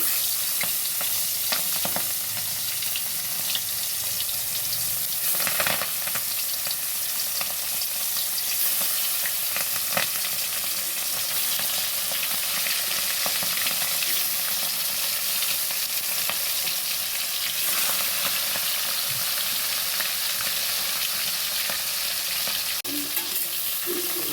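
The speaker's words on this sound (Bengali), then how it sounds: "তেল গরম হয়ে গেছে, আমি এবার মাছগুলো আস্তে আস্তে ভেজে নেবো" Prawns fry slowly in hot oil in a pan, a constant soft sizzle with occasional scraping stir sounds, steady and close for the whole stretch without talk.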